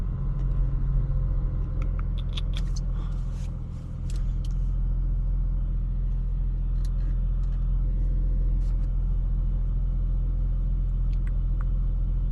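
An Audi S5 driving through evening rain, a steady low engine and road rumble inside the cabin with faint tapping and hiss over it, continuous and unchanging.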